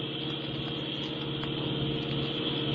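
A car drives slowly through an empty tunnel, its engine a steady low hum with a constant hollow rumble, close and unbroken.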